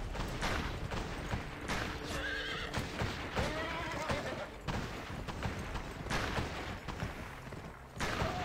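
An enemy's horse neighs and whinnies in the video game Gun, with clip-clopping hooves and bursts of gunfire around it, several whinnies repeating over a noisy game soundscape.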